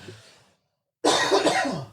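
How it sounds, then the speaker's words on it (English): A single harsh cough bursts out after a brief quiet, close and loud, following a faint breathy sound. "I'm coughing again."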